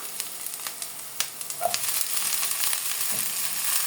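Onions frying in a pan as a recipe cooks, a loud, steady close sizzle with crackling bursts and a few stirring touches, building slightly denser toward the end, with no voices.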